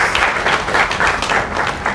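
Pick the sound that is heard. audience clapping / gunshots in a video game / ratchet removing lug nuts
audience clapping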